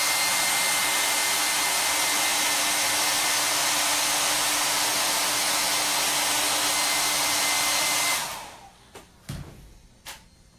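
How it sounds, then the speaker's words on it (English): A blow dryer drying paint on a chalk transfer sign roars steadily at close range for about eight seconds, then cuts off, followed by a few soft knocks and rustles. "get my heat tool, aka my blow dryer, and I'm just going to dry them real quick"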